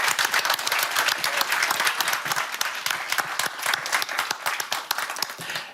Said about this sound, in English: let's give them a great hand of applause for their insights.